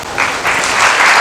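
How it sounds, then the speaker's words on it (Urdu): A church congregation breaks into loud, dense applause during a Sunday sermon, a steady wash of clapping filling the short moment without any speech over it. "سب ان کے لیے تالی بجائیں۔"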